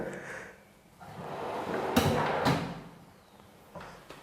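A drawer in a kids' bedroom slides open, heard as a soft rolling swell with a couple of dull knocks near the middle. It is close and moderately loud, with no talking.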